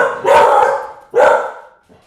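A dog barks loudly and close by, two long, hoarse barks about a second apart, followed by a faint short trailing sound.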